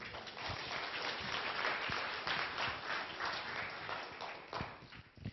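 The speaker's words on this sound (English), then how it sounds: "Can we give Lisa a round of applause, please?" Audience members applaud after a speaker at a presentation, a steady wash of clapping from a small crowd, faint and somewhat distant, with no speech over it.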